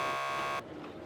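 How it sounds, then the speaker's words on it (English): Door buzzer in the Max Payne 2 video game, a single harsh, steady electronic buzz lasting about half a second before cutting off abruptly into low background hum. "Just press the buzzer by the door"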